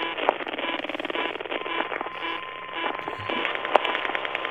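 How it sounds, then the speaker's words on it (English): Old onboard computer in the Alien: Isolation game, a steady electronic hum with a faint sustained tone running through it and a couple of sharp chirps near the start and near the end, heard alone without talk. "I love that, just the way the computer sounds, like the humming and the chirps of the old"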